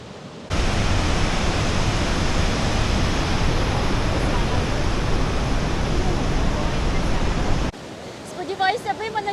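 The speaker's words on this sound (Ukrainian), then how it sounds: "Вода тут настільки шумна і вона настільки сильна, що здається, що всі ці містки зараз знесе." Roaring water of Iguazu Falls on the Brazil–Argentina border, a loud, dense, continuous rush filling the scene from close by, cutting off abruptly near the end where a voice is briefly heard.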